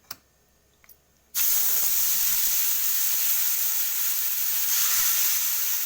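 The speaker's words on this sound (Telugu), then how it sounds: "ఇప్పుడు ఇదే కడాయిలో చింతపండు వేయించుకుందాం" Tamarind drops into a hot kadai and a loud, steady sizzling hiss bursts up at once, holding strong and even after a few faint clinks.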